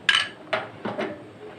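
Eggs mixed with food colour are beaten in a bowl, giving three or four quick clinking strokes of a utensil against the dish, close and fairly loud.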